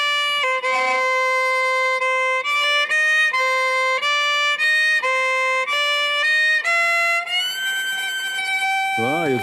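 A violin plays the KBC quiz show theme tune alone, in clear sustained and stepped melodic phrases, steady and loud, with a short wavering glide at the end.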